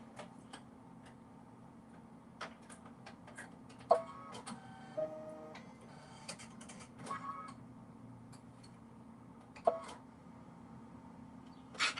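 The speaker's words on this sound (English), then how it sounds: "It's going to do a blanket stitch." A domestic sewing machine stitching a blanket stitch in pink thread ticks and clicks in short irregular bursts, quiet and close, with sharper mechanical clacks at intervals and a faint motor hum between.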